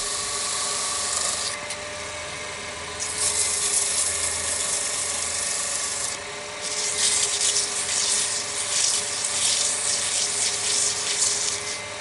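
A wooden chess rook is sanded on a spinning lathe, giving a steady, close abrasive rubbing hiss with a constant motor hum underneath. The hiss swells louder in brief stretches, and no one speaks.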